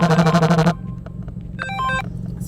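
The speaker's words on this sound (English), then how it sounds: "Sorry, that was my alarm." A phone alarm sounds loud and close in a quiet room, a fast repeating electronic pattern for under a second that cuts off abruptly, followed later by a fainter burst of bright beeping tones.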